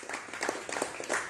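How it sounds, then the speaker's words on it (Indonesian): An audience at an Islamic study gathering applauding, a soft, steady patter of many hands clapping at a moderate distance, brief and continuous. "Tepuk tangan, ya"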